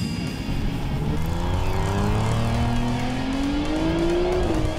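A Big Block Chevy Nova accelerates hard on a Pass Time run, its engine note climbing steadily in pitch as the revs build, loud and continuous with no talking.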